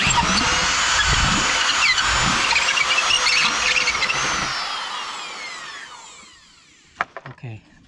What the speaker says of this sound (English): I'll ream it out pretty good.